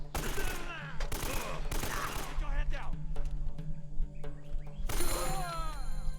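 Gunfire in a fight scene from the video game Uncharted: Drake's Fortune, with loud bursts of shots clustered at the start and again near the end. Quieter stretches sit between them, with some birdlike chirps in the background.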